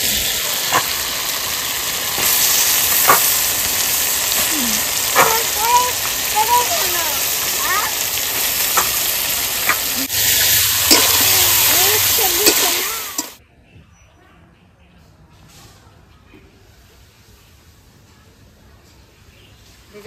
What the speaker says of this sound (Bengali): তেল ছেড়ে দিয়েছে, এবার মাংস দিয়ে দেবো।